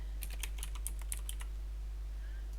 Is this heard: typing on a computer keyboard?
yes